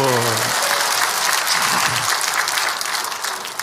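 A church congregation bursts into loud, sustained applause in a worship hall, the dense clapping filling the space almost alone, with a brief voice at the very start before the clapping takes over.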